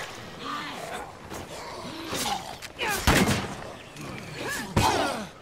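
Scattered gunfire in State of Decay 2 during a zombie fight, several sharp shots spread across the clip with one loud burst in the middle, mixed with growls and creature noises.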